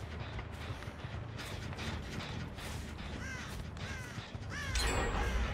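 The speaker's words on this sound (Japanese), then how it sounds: "お、またカラス飛んだ。" Crows cawing in a few short calls over steady game ambience in the horror game Dead by Daylight, followed by a louder flapping burst as a crow takes off near the end.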